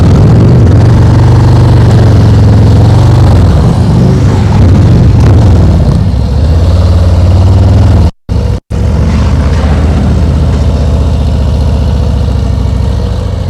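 A motorcycle engine in slow-speed riding practice rises and falls through repeated throttle revs, loud and close, then cuts out briefly before the engine sound picks back up.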